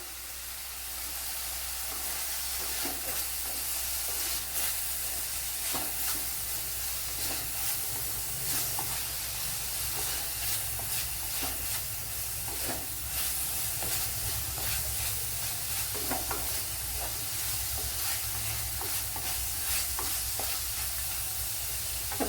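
Dried red chillies sizzle in hot oil in a pan for a tuna fish curry, a steady crackling fry with small pops and hissing that carries on without a break, close and with no talk over it.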